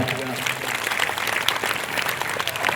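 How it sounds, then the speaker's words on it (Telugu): A church congregation claps together in dense, steady applause that holds at an even level for the whole stretch. "చప్పట్లు కొడదాము గట్టిగా"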